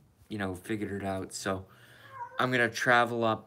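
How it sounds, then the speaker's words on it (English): A pet cat meows loudly nearby in a few drawn-out cries, with someone talking over and between them. "That's the cat."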